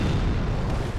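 An explosion in the dark fantasy video game Daughters of Ash, a dense, loud booming roar with heavy low rumble sustained across the moment.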